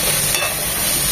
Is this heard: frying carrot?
yes